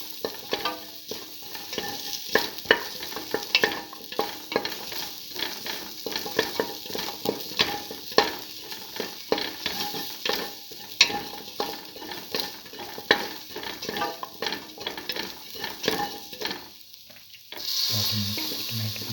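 A split pigeon pea and potato stew mixture being stirred in a pan: continuous rapid scraping and light clatter over a soft sizzle, close up, ending with a brief change near the end.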